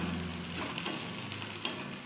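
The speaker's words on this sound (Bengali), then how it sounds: "পেঁয়াজ আমার ভাজা হয়ে গেছে" Onions frying in a pan, a steady close sizzle with a few stirring scrapes and clicks throughout.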